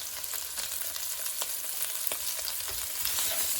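Spices and chili powder stirred into Punjabi chole cooking in a pan, with a steady close sizzle and frying crackle under scattered scraping stirs, no talk.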